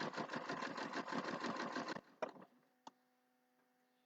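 Sewing machine stitching fabric slowly near a pin, a steady rapid run of needle strokes for about two seconds, then it stops, followed by a few soft clicks and handling sounds.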